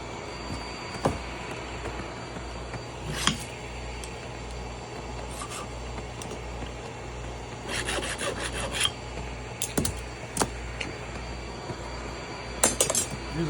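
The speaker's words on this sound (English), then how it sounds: "Use a sharp file." A sharp file rasps across neon glass tubing, producing quiet, intermittent scraping strokes and a few faint glassy clinks against low background noise.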